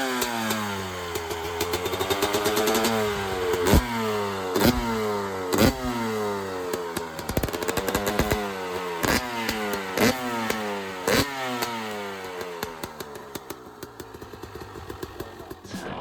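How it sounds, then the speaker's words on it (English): A carbureted 300cc two-stroke supermoto motorcycle engine is revved repeatedly, its buzzing whine climbing and dropping in quick, sharp blips between brief idles, loud and close throughout. "That means that the sound of the bike is so much better than the fuel injected ones."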